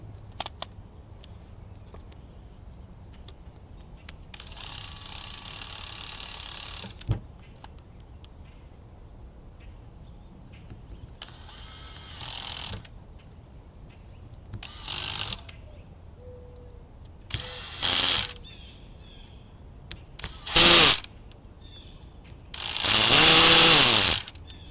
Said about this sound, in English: I'm very well acquainted with the torque settings on this DeWalt driver's clutch